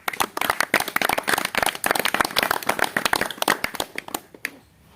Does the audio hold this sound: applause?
yes